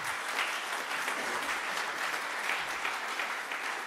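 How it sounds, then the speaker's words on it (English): Audience at a competition conference applauds steadily after a talk, a dense, even wash of clapping from a hall full of people throughout. "And I think Peter and Bert, please give them a big round of applause."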